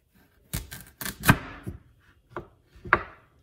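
Several sharp knife strikes chopping sweet potato on a cutting board, irregularly spaced, close by with short pauses between clusters of chops.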